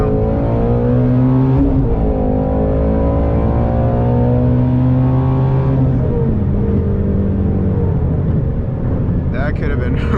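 A car's engine revs hard and holds high while its cold, worn Michelin rear tires spin, a loud sustained drone with shifting pitch, and a voice speaks over it near the end.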